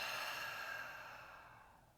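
During a guided breathing exercise, one long, quiet breath is released, an airy hiss that tapers gradually to silence, with no voice over it.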